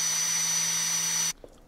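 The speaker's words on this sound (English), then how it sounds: "then start drilling your holes" A power drill bores a small pilot hole into the steel frame of a Jeep TJ, whining steadily at high pitch, then stopping abruptly with a faint knock afterward.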